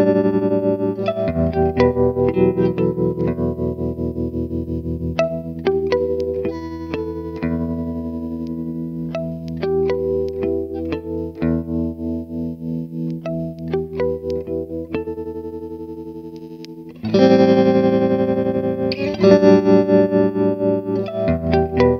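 Electric guitar played through a FuzzBox Gear Janus tremolo and fuzz pedal, with pulsing, wobbling chords and single notes picked in a rhythmic pattern, turning louder and thicker toward the end, no talking.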